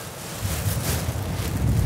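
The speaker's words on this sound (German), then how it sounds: "Ja, ist sehr windig heute." Strong gusting wind blows across an airport apron at Frankfurt Airport, buffeting the microphone with a loud, rising rumble and no voices.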